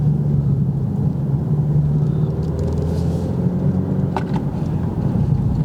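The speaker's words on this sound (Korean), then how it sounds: "약간 좀 변경을 해보면 배기음도 약간 더 커지고요" A Genesis G70 AWD in sport mode gives a low, steady exhaust rumble from inside the cabin, a continuous droning tone under road noise, with no talk.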